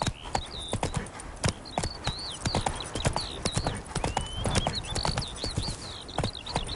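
Hooves of a horse in The Witcher 3: Wild Hunt clatter in a steady, quick galloping rhythm, close and loud, with chirping birdsong from the game world layered above.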